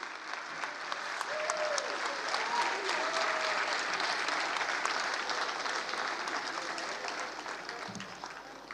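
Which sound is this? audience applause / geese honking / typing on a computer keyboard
audience applause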